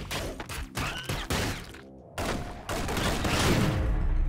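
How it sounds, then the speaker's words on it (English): Rapid gunfire from a player's gun in the action game ScourgeBringer, sharp repeated shots in bursts with brief gaps, loud and close, alongside other combat noise. "Use the gun as a last resort to finish guys off that are out of my range"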